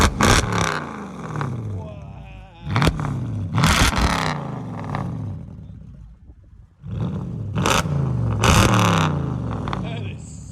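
Straight-piped 5.5L V8 on a 2008 Mercedes CLS 550 roars through repeated loud revs and throttle blips, close by, with idle rumble between bursts and voices talking over it.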